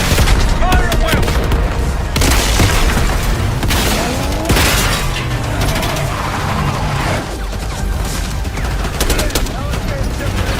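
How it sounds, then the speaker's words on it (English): Dense, loud gunfire from a Call of Duty Black Ops 6 firefight, with rifle and machine-gun bursts and heavy booms rolling nonstop under battle noise, while voices shout faintly underneath. "Fire at will."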